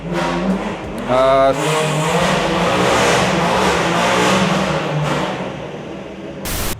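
Porsche 911 Turbo S (992) in sport mode with its exhaust flaps fully open, a loud close engine revving in rising and falling surges, with a voice talking over part of it.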